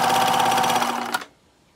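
A new sewing machine buzzes steadily at full throttle, close and loud, then cuts off abruptly after about a second.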